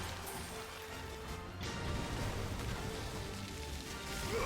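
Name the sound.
acid rain spell in video game Final Fantasy XVI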